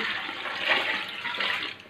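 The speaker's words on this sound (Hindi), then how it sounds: "ये तीन किलो में पानी डालूँगी" Water pours steadily into a large cooking pot of beef yakhni stock for degi beef pulao, a continuous close splashing rush lasting a couple of seconds with no talk.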